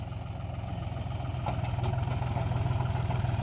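A John Deere tractor engine runs in a farm field with a steady, throbbing low chug and light clatter, close by and growing slightly louder toward the end, with no talking.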